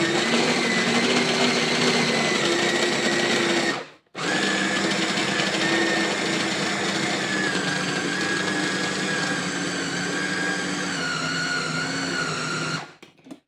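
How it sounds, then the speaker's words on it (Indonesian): An electric food chopper whirs while blending steamed potatoes with corned beef, giving a loud, steady motor whine that cuts out briefly, restarts and runs continuously before stopping. "Chopper ini adalah blender yang tanpa apa namanya air ya."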